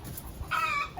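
A rooster clucking nearby outdoors beside a fire pit, with a short burst of loud, harsh clucks and calls standing clearly over a quiet background, no talking.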